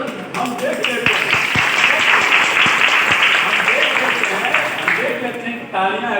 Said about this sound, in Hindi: तालियां ऐसे बज रही हैं,